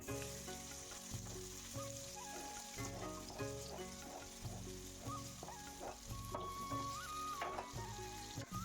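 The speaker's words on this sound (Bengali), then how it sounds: "তো পেঁয়াজগুলোকে ভালোভাবে ভেজে নেব এখন।" Chopped onions sizzle and crackle in hot oil with whole spices while making prawn malaikari, a steady close frying hiss with occasional stirring clinks and no talking.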